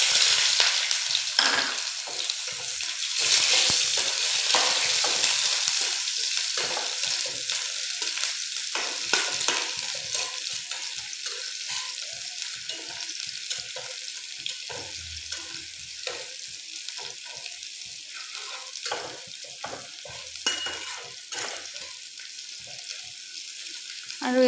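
Onion frying in oil with whole cumin and dried chilies for a fish curry, a loud close sizzle that settles into a steady hiss with light stirring, with brief speech.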